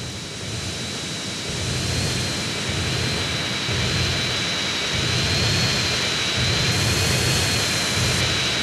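Military jet in GTA San Andreas rolling along the ground, a steady loud turbine whine with a high tone held throughout over a low rumbling roar that swells slightly, no voices.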